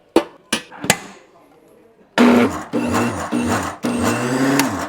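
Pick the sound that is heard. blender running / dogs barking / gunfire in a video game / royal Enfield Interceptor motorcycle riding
blender running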